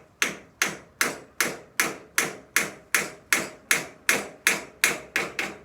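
Steady hammer blows drive nails about twice a second while making a broom, each a sharp, close metallic tap with a quick decay, repeating evenly with no talking.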